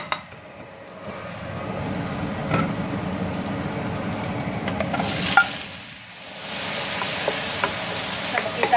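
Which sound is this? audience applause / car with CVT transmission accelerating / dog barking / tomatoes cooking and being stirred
tomatoes cooking and being stirred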